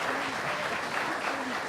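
Audience at a Memorial Day ceremony in Ojai breaking into steady, full applause, a close continuous roar of many clapping hands with faint voices mixed in.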